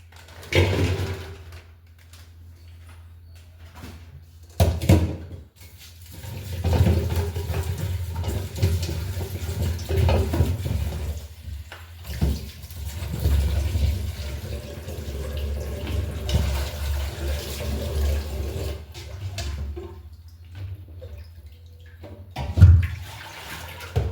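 Water running from a tap while something is rinsed clean at home, a close, uneven wash of splashing that swells and drops with short pauses and thumps, no talk.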